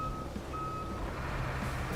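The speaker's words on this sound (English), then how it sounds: "put it in gear so it's not beeping at us." Repeated reversing beeps from a heavy truck in the video game Roadcraft, steady and evenly spaced over a low engine rumble, with no talking.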